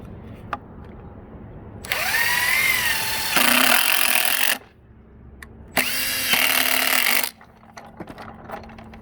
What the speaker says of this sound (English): they'll kind of pull together as we run those screws in